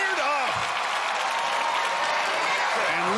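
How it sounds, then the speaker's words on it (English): A large arena crowd at the American Ninja Warrior Los Angeles finals cheers and applauds in a steady roar, with a commentator's voice carrying over the noise. "And this crowd is fired up."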